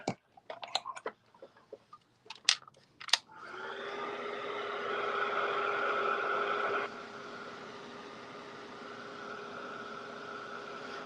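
A heat dryer blowing over Tim Holtz Distress paint, a steady whirring hiss that starts after a few soft taps and handling sounds, then drops to a quieter setting.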